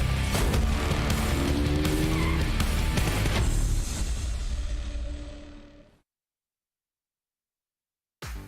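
McLaren car in the PUBG Mobile video game, driving loud and close with a rough engine roar and squealing, skidding tyres, then cutting abruptly to silence before a brief burst returns.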